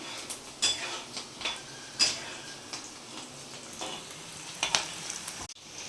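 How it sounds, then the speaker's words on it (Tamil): Eggs cracked into a pan of roasted onions for egg podimas, frying with a steady soft sizzle, scattered sharp clicks and scrapes of a utensil against the pan, close by with no talking. "வெங்காயம் ரோஸ்ட் ஆகிட்டதுக்கு அப்புறம் முட்டை உடச்சி போட்டுடலாம்."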